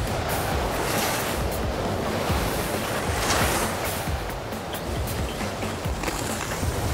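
Strong wind roaring across an alpine ski slope in a ski racing video game, a steady loud broadband rush with gusty surges throughout and no voices.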